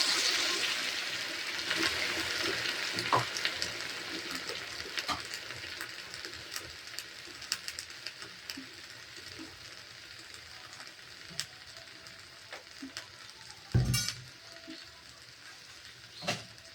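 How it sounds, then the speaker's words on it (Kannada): Water goes into a pan of simmering mango and jaggery gojju: a rushing, hissing pour at first, then a steady low sizzle with scattered small clicks and one brief louder clunk. "ನೀರು ಹಾಕ್ಕೊಳ್ತಾ ಇದ್ದೇನೆ ಸ್ವಲ್ಪ."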